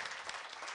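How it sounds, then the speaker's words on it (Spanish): Audience applause following a chef's dish presentation at the Fiesta del Chef in Villa Pehuenia, a brief dense burst of clapping heard from a moderate distance. "Un fuerte aplauso nuevamente para esa presentación espectacular"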